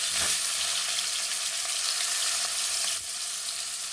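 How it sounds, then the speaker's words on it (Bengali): Potatoes fry in hot oil left over from frying eggs, giving a steady, loud, dense sizzle that continues without talk. "ওই একই তেলের মধ্যে আলুটা আমি ভেজে নেব।"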